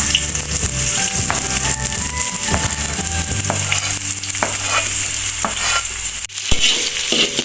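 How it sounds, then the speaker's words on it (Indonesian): Sliced shallots and thinly cut garlic sautéing for Minang-style taro fritters, a loud steady sizzle with repeated scraping stirs of a spatula against the pan throughout, briefly cutting out near the end. "Kita tumis bawang merah dan bawang putihnya Bunda."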